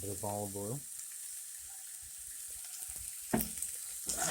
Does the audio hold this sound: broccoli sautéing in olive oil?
yes